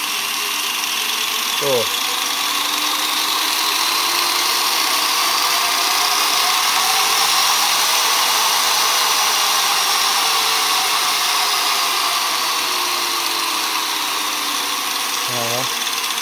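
An angle grinder switched on at its lowest speed, a loud, steady electric whine with a slight rise and fall in pitch, running continuously throughout, with brief speech at the start.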